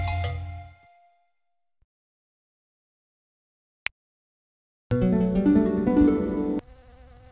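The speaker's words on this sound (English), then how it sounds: "the edge of the pond where the sneasel bees buzz" Bees buzz at the edge of a pond in two short, bright bursts separated by silence and a single faint click.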